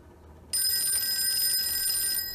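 A telephone bell starts ringing after a brief quiet moment and carries on steadily and clearly to the end, with no voices over it.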